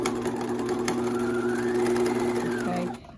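A sewing machine runs steadily and close, stitching all four sides of a fabric sewing sample, a continuous mechanical whir that slows and stops at the end, with no talking.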